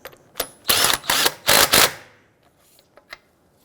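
A torque wrench works the lug nuts on a 2008–2013 Infiniti G37 wheel using the locking key, giving a few loud, close ratcheting bursts in quick succession, then faint clicks.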